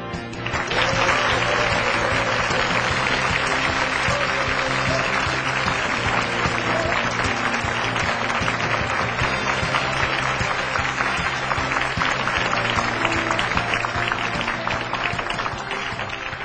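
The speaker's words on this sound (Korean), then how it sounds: "여러분 힘찬 박수로 맞이해 주십시오" A large lecture-hall audience gives sustained, loud applause to welcome the Korea International Trade Association vice-chairman to a CEO lecture. The dense clapping runs steadily for the whole stretch without pause.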